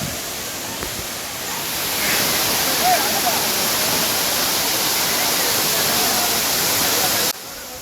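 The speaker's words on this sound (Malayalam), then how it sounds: "വളരെ നൈസായിട്ടാണ് വെള്ളം വീഴുന്നത്." Water falls steadily at Thusharagiri waterfall in Kerala as a broad, even rushing roar that grows a little louder after the first couple of seconds and continues unbroken, with no talk over it.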